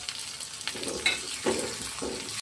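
Tomatoes added to softened onions sizzle and fry in a pan, a continuous crackling hiss with a few louder bursts as the mixture is stirred.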